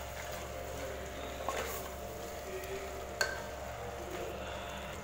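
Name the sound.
tomatoes frying with masala in pan for chicken curry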